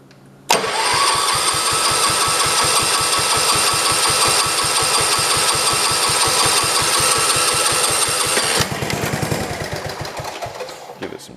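A John Deere 112 garden tractor's engine fires up after the key is turned and runs at a fast, steady, chugging idle, loud and close, with a shift in its note near the end.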